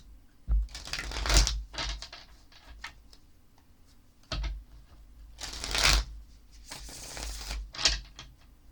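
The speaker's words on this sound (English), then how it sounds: "let's go ahead and shuffle the tarot cards and pull a couple" Tarot cards are shuffled in several quick riffling bursts, crisp and close, separated by brief pauses and light handling clicks.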